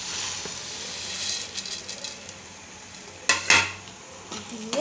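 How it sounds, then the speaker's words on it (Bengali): Fried mihidana is stirred in a pan over a lowered gas flame while making laddu. A soft, continuous sizzle sits under light scraping, with a louder metallic clink and scrape of utensil against pan midway through and no voices. "গ্যাসটা কমিয়ে ভালো করে নাড়াচাড়া করবো।"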